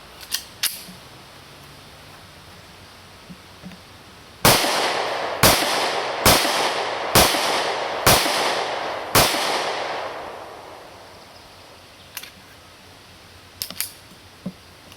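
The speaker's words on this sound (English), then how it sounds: "First, let's shoot some rounds down range and see how it feels." Six sharp, loud shots from a Springfield 1911 Micro Compact .45 pistol fire in a quick, even string at an outdoor range, framed by a few fainter clicks and handling sounds before and after.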